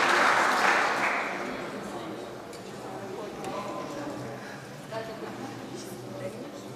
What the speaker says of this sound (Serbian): Molim vas, još jedan aplauz za prvu ekipu matematičke gimnazije.